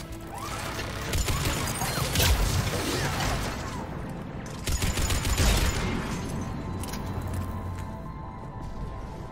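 Rapid bursts of turret gunfire in Mass Effect 3 with crashing impacts, rattling fire in two heavy waves over a constant rumbling background.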